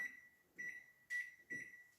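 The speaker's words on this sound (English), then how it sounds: "now just set the timer." An oven timer beeps while being set for baking pastelitos, four short, quiet electronic chirps in an even rhythm about half a second apart, with soft clicks between.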